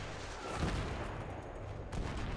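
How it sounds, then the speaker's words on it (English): Explosive blasts and gunfire in Battlefield 3 combat as an RPG rocket launches from a rooftop, two fairly faint muffled bursts over a rumbling battlefield background. "There's a rocket launch."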